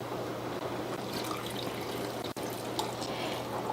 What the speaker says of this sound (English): add the water to the jar so everything is underwater